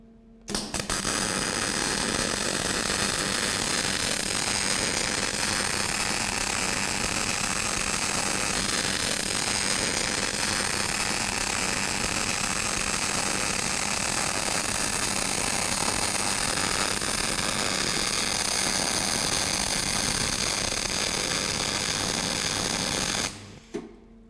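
BOC MIG welder laying a bead, a steady, dense buzzing crackle that runs continuously for over twenty seconds at even loudness before stopping abruptly.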